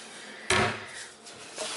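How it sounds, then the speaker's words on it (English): Kitchen drawer sliding shut with a single close wooden thump, a short rattle trailing off and a lighter knock just after. "I think this would be my junk drawer for now."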